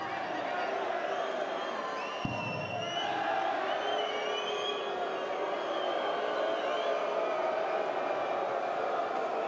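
Constant murmur and cheering of a large darts crowd at a professional final, broad and steady, with a sharp thud partway through and scattered whistles and whoops rising above the din.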